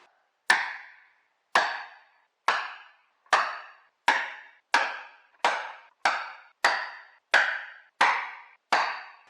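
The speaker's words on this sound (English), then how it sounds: "use a punch and a hammer to mark those holes" Sharp metallic hammer strikes on a punch marking drill holes, about a dozen evenly spaced taps, close and crisp with brief ringing decay.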